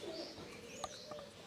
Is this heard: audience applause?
no